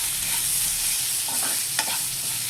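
A spoon stirs chili powder and ginger-garlic paste in a hot pan for a bitter gourd curry. There is a steady close sizzle with soft scraping strokes and a small clink near the end, and no voices.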